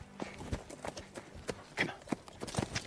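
Horses' hooves clip-clop in a quick, uneven run of sharp knocks, fairly close and distinct, with no speech over them.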